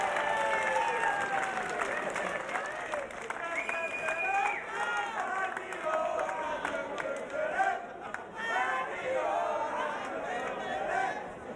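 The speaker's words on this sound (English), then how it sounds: "let's have a big round of applause" A fight crowd at a BAMMA mixed martial arts event cheers and applauds the winner after the judges' decision, a steady dense wash of clapping and chatter with a voice talking over it.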